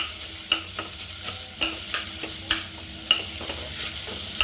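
Beef sautéing in its own fat with no coconut oil, a close sizzle marked by rhythmic scraping stir strokes about every half second.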